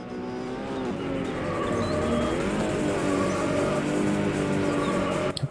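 Porsche race car in a racing video game pulling away under steady acceleration, a continuous loud engine drone with tire noise, played without talk.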